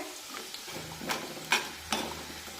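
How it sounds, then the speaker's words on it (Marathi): Wheat flour dough balls for churma laddu frying in hot oil as they are turned, with a soft steady sizzle and three sharper stirring scrapes or clatters spaced about half a second apart. "असे उलटपुलट करत सगळीकडून हे मुडके आपण छानपैकी तळून घेऊया"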